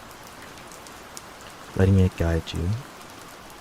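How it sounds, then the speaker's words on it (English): Steady rain falls as a constant soft hiss throughout, with a calm voice speaking briefly over it near the end. "You can just lie here, listening to the rain"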